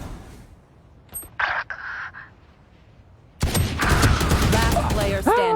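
Gunfire in a Valorant-style shooter game: a short quiet lull with a few sharp shots, then sustained loud bursts of firing mixed with game effects and excited talk.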